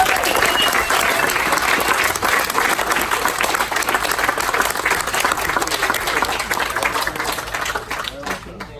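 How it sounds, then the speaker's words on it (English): Wedding guests burst into loud, sustained applause for the couple, a dense wash of clapping that holds steady for several seconds before tapering off at the end. "So big round of applause please for Cheryl and Clive."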